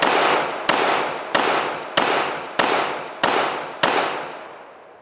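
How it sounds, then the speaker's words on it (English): Seven loud, sharp firearm shots from a handgun fitted with a gas pedal ring out at a steady pace, each one followed by a long fading echo, with no talking. "so we're gonna go ahead and just take a few shots"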